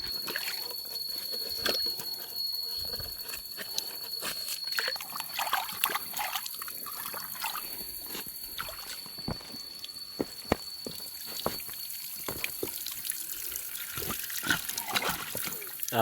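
Water from a forest stream trickles and gurgles steadily into a hose intake, with small irregular splashes and drips over a continuous watery hiss throughout.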